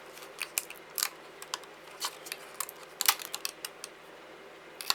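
Cutting the base of a small wooden diorama piece with a craft tool, a series of sharp, close snips and clicks in an uneven rhythm, with no voice heard.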